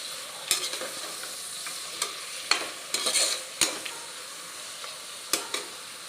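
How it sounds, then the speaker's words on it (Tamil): Mutton pieces are stirred as they fry in a pan, a soft continuous sizzle punctuated by sharp, irregular spoon scrapes against the metal, close by with no talking. "மட்டன் போட்டு நல்லா கிண்டி விட்டுக்கலாம்."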